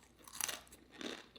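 A spicy pickle chip is bitten with a sharp, close crunch, followed by a softer chewing crunch about half a second later, faint and quiet overall.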